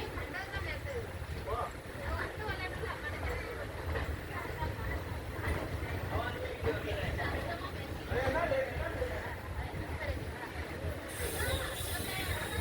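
The Guruvayur Express rolls from Madurai to Kollam, a steady rumble and clatter from inside the carriage with a constant low roar, while passengers murmur and talk in the background throughout.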